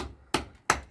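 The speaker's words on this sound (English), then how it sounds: "chop this to a flat end here." A Pohl Force Tactical 9 knife chops wood to a flat end, giving two sharp, close strikes about a third of a second apart with no talk.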